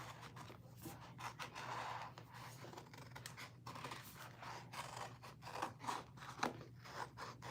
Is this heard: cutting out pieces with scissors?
yes